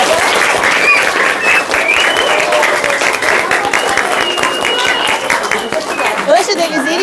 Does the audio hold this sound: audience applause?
yes